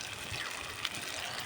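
Water pours steadily into a curry pan, a brief continuous gushing splash heard close and alone.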